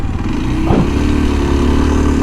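A Modenas KLX230 SM motorcycle engine hums steadily at close range, a low continuous drone with a brief rise partway through.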